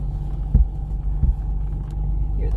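A vintage Toyota Land Cruiser FJ62 drives along, its engine giving a steady low rumble and hum from close inside, broken by a couple of dull thumps, with no talking.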